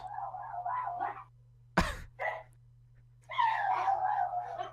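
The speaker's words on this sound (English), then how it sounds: "my dog's crying" A dog locked out of a room whines and cries in drawn-out, wavering bursts, with a sharp thump partway through, close and fairly clear over a low steady hum.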